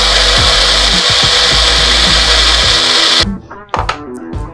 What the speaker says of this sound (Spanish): Procedemos al licuar.